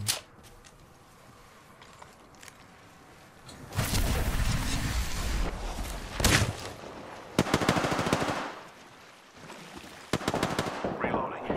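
Gunfire in the battle royale game Apex Legends comes in several loud bursts of automatic fire with whooshing effects, separated by quieter stretches of ambient game noise.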